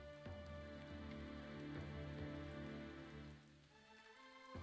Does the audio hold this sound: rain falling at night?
yes